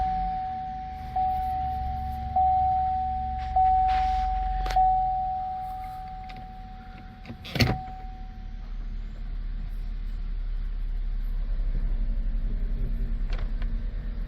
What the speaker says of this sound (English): when we go to the vehicle and we start it